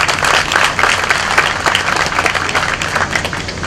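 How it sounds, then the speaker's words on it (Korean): Union rally crowd giving a dense, loud burst of encouraging applause, many hands clapping continuously and evenly throughout. "큰 격려의 박수 다시"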